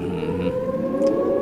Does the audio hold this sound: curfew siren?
yes